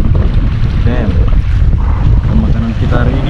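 Steady north-east wind buffeting the microphone outdoors by water while fishing in bad weather, with a voice talking briefly over the rushing noise.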